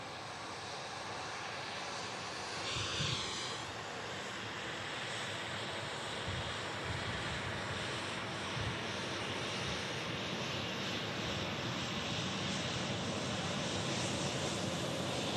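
A jet aircraft taxies at Manchester Airport, heard as a steady, broad engine roar that holds at a moderate distance throughout, with no voices.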